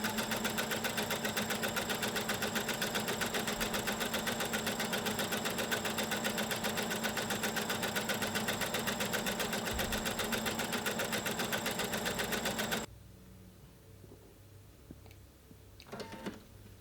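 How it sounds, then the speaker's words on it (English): A sewing machine stitches a row of gathering stitches for a collar or yoke ruffle, a steady, fast mechanical whir running close and loud for about thirteen seconds before stopping abruptly, leaving faint handling noises. "I'm going to sew another row of stitches 1/4 inch from that"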